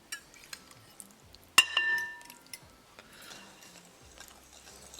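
A spoon stirs fish marinade of salt, chilli powder, olive oil and homemade yogurt in a mixing bowl, giving scattered light clinks and taps in a quiet room, with one sharp ringing knock partway through.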